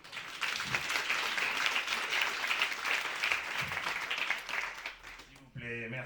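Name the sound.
audience applause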